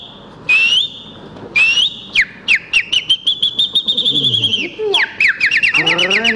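A person whistles an imitation of a white-rumped shama's song, close and loud: rapid rising chirps and warbled phrases in quick bursts, with a brief voice in the middle.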